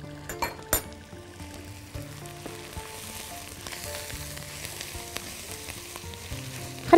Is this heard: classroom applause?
no